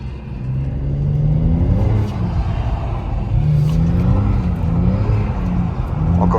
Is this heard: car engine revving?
yes